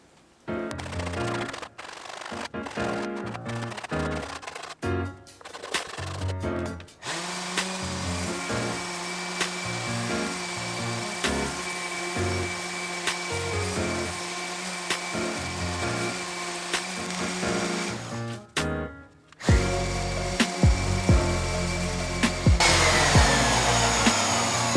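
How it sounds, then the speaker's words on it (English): A Shinto rasp, rough side, shapes a birch longbow with bamboo backing in long runs of close, loud rasping strokes, broken by short pauses and a rougher burst near the end. "the last amount of roughing out using the rough side of a Shinto rasp"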